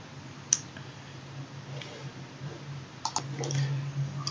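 A computer mouse clicking, a few sharp isolated clicks, one near the start and a small cluster later, over a quiet background hum.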